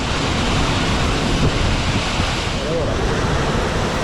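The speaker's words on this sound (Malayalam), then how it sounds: "നമ്മൾ വെള്ളച്ചാട്ടത്തിൻ്റെ അടിയിലാണ് എത്തിയിരിക്കുന്നത്" Athirappilly waterfall in a forest setting, heard from its base as a loud, steady roar of falling water that fills the whole clip without a break.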